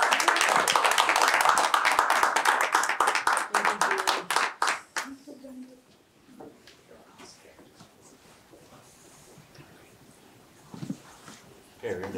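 Attendees at a school board meeting clapping for presenting students, a lively round of many hands for about five seconds that then stops, leaving a quiet room with faint shuffling and a brief murmur.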